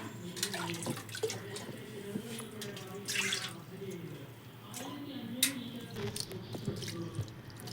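Water trickles and splashes intermittently in a sink while dishes are rinsed, with people talking quietly nearby.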